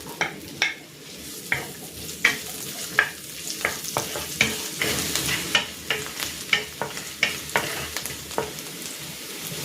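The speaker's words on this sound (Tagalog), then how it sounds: "Igigisa ko na tong luya." Ginger sautés in hot cooking oil in a wok, a close crackling sizzle broken by a quick run of sharp scraping clicks from a spatula stirring against the pan.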